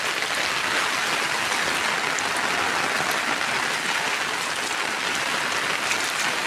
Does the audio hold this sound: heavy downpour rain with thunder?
yes